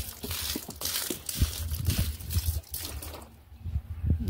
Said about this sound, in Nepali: यसमा पानी हालिदिनु लागेको म चाहिँ।